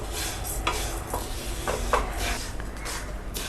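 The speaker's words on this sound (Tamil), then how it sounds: "லைட்டாக ப்ரௌன் ஆகிற வரைக்கும் நம்ம நல்லா ரோஸ்ட் பண்ணிக்கலாம்" A utensil scrapes and stirs moong dal dry-roasting in a pan over low flame, with a steady run of close, gritty scraping and soft clinks and no talking.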